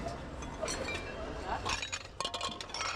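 Small ceramic bowls clink against each other as they are handled, picked from discarded household items at a dump site, with light scattered chinks over background noise and some voices nearby.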